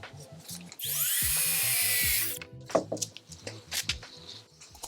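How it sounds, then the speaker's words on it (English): A power drill bores a hole in one high, whining burst lasting about a second and a half, followed by scattered clicks and handling noises over a soft rhythmic background. "so I had to drill another one."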